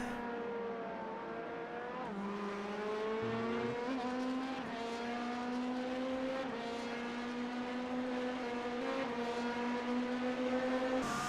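GT3 race cars in iRacing's IMSA race at Sebring roar in a steady, layered engine drone, their pitch climbing slowly through the gears as the pack runs nose to tail.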